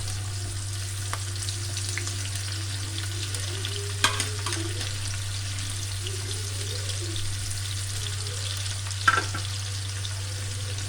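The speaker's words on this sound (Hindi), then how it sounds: "ये आधा कप हमने ऑयल लिया है, इसमें हम 1 अदद प्याज बारीक बारीक डाल के इसको फ्राई कर लेंगे।" Finely chopped onion frying in half a cup of oil for haleem, a steady, close sizzle over a low hum, with occasional clinks and stirring scrapes around the middle and near the end.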